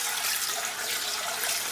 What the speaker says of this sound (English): I normally like to use a bit of hot water to wash my rice with.